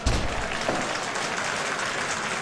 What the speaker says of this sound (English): Crowd showing their appreciation for the skill of escaping the pinfall.